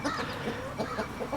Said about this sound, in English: That's the rooster right there.